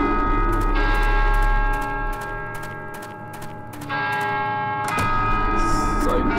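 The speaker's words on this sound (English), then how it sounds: "The church bell. That means someone is inside." A church bell tolls in the video game Vermination, ringing loud and sustained, with ticking clicks and a constant low game ambience underneath.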